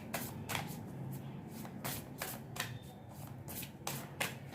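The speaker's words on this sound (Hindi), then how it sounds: "और हम कुछ कार्ड्स निकालेंगे।" Tarot cards being shuffled by hand, a quick series of crisp riffling and slapping bursts at a steady rhythm, close and moderately loud against a low room hum.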